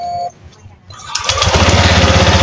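A Honda Click 150 scooter that was misfiring and would not idle, now running after air cleaner and spark plug work: after a brief lull the engine catches and revs up loud and steady, close by.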